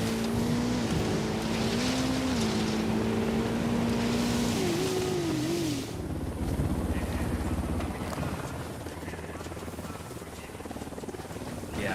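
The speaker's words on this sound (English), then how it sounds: "Oh, it's a convoy." Engine drone rises and falls as vehicles move in Ghost Recon Wildlands, a steady loud motor with a shifting pitch that later settles into a lower rumble, with some talk underneath.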